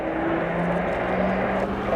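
A Pilatus PC-9M propeller aircraft of the Slovenian Armed Forces during a flying display at RIAT 2025, heard as a steady, loud drone of engine and propeller with a slowly shifting pitch.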